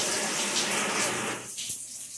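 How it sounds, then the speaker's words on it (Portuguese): Water starts gushing from a home shower with a steady hiss for about a second and a half, then drops off to a quieter trickle near the end. "Deixa eu ligar aqui o meu chuveiro."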